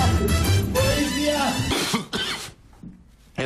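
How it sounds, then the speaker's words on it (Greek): Someone coughs harshly several times in a sick-sounding fit, close and fairly loud, with bursts and a throat-clearing rasp trailing off into quieter breaths. "Έχω αυτό το βήχα, γιατρέ."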